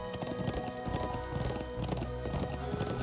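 Horse hooves clip-clopping steadily while riding in the video game Trails of Cold Steel, a continuous rhythmic gait heard loud and up front over a dense layer of game music.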